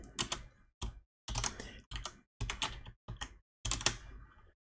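Code being typed on a computer keyboard in short bursts of rapid key clicks separated by brief pauses, close and fairly quiet, with no voices.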